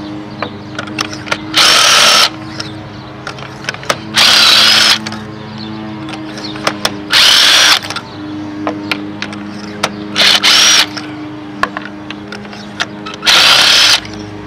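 A cordless power tool spinning out four car spark plugs, several short loud whirring bursts separated by quieter pauses with faint clicks and handling noise.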